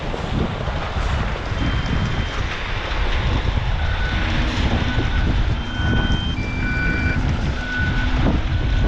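A concrete truck's reversing alarm beeps in a regular repeating pattern over a loud diesel engine rumble and gusting wind noise on the mic at an outdoor court pour.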